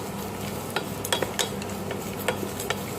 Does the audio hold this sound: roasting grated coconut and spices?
yes